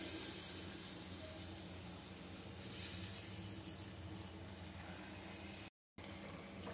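Bengali-style fish curry broth comes to a boil in a pan after water is added, a faint steady bubbling and soft simmering hiss throughout with no voices, cut by a brief dropout near the end.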